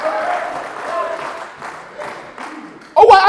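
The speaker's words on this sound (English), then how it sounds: "Give a clap offering to the Lord tonight." Congregation at an evening church service giving a clap offering, a crowd of hands bursting into loud, dense applause near the end after a stretch of mixed voices and murmuring.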